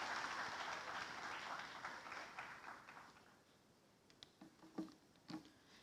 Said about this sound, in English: Everyone, a round of applause for Rishika!